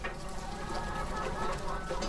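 Chickens clucking on a farm where the birds roam and mingle freely: faint, scattered clucks in a low, steady background, with no talking.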